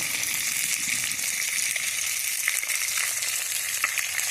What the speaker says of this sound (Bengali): মাছ ভাজা হয়ে গেছে, আমি তুলে নিচ্ছি মাছগুলো।